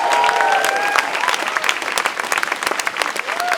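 An audience at an outdoor nature campaign event, Restore Nature Now, breaks into loud applause and cheers, strong at first and then thinning into scattered claps, with voices mixed in.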